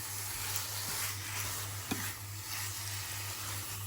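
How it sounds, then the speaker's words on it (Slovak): Chicken meat frying in oil in a pan, a steady close sizzle with a low bubbling hum and one brief clack partway through, no voices. "To kuracie urobím dneska fakt, že jednoducho, iba ho osmažím a trochu podusím."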